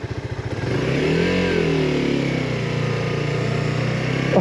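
A Suzuki GSX-R 125cc sports bike engine blips at idle, then the throttle opens into a loud sustained rev with a rising and falling note, heard up close with no voices.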